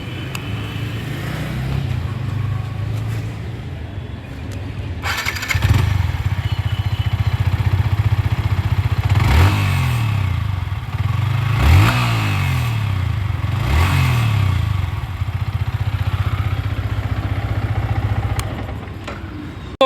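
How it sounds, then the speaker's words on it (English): Yamaha R15 V3.0 BS6 motorcycle exhaust note, heard close up: a steady idle followed by several sharp throttle blips that rise and fall, then settles back to a throaty idle. "So let's listen to the exhaust note."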